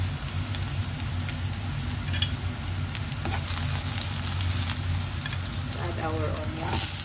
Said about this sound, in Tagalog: let's saute our garlic